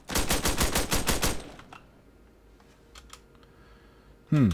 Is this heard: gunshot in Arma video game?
yes